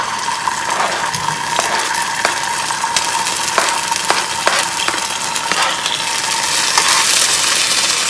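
Garlic and shallots sauté in a rice cooker pot, giving a steady, close crackling sizzle with scattered sharp pops and clicks of a spoon running throughout, and no talk over it.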